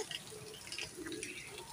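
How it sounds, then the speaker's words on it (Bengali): Light drizzle falling outdoors, with scattered soft drips and patter of water over a faint, steady background wash, quiet and fairly distant. "ঝিরি ঝিরি বৃষ্টি হচ্ছে, চারিদিকে বৃষ্টি পানি পড়ছে"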